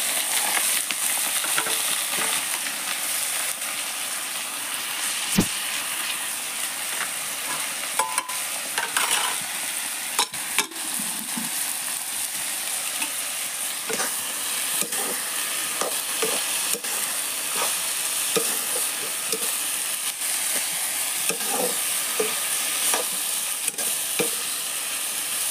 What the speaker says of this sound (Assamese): ঢেকীয়া ভাজিৰ কাৰণে